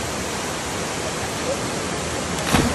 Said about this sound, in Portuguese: A cachoeira do Paquetá é simplesmente uma das mais lindas da região.